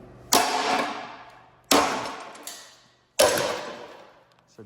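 Three sharp hammer blows on a car engine part being split apart with a pry bar, each a loud metallic strike with a ringing decay, spaced about one and a half seconds apart, close up.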